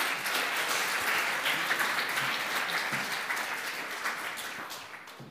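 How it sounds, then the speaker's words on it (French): An audience at a Geneva eloquence competition applauds, a crowd clapping steadily at moderate volume that gradually fades toward the end. "on vous applaudit quand même"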